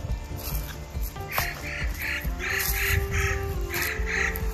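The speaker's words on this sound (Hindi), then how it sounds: "और ये कुछ पक्षी चिल्लाते हुए" Birds calling in a snowy Himalayan forest on the Kuari Pass trek, a series of repeated harsh squawking calls, fairly close and steady over a low background rumble.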